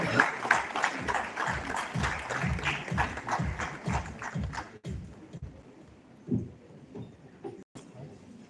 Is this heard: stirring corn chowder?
no